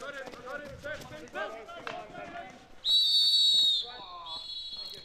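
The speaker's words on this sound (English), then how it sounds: "Heavy whistle coming in from umpire Michelle Hubert on this left-hand side" An umpire's whistle sounds at a field hockey match, one long loud shrill blast followed by a shorter one, between stretches of a commentator talking over crowd and field noise.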